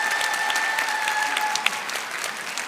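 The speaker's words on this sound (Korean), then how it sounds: "격려의 박수" A church congregation at a Sunday service applauds children who have just performed songs and dances, a steady dense round of clapping filling the room, with a faint sustained tone running underneath for the first part.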